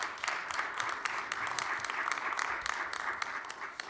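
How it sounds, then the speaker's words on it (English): Audience applause at a commissioner's welcome and opening remarks event, a faint, steady patter of many hands clapping with scattered sharper claps, no talk over it. "So round of applause for our Vice President."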